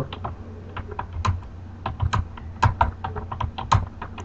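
Keystrokes on a computer keyboard while a WordPress post is written, a close, steady run of irregular taps and clacks with brief pauses, with no talk over them.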